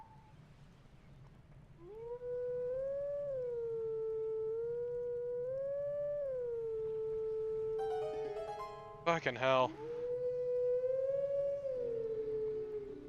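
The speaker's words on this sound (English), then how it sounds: "really hate the wolf howling." A wolf howls in Legend of Zelda: Twilight Princess as a long, wavering, siren-like tone that rises and falls, breaks briefly into a burst of louder notes, then resumes. A voice briefly curses under it.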